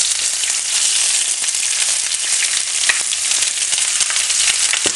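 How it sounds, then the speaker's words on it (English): Onions frying in a pan with cinnamon, cardamom and curry leaf, a steady dense sizzle with scattered pops and crackles, close and loud throughout with no voices. "So just stir it well so the onions start to caramelize a little bit"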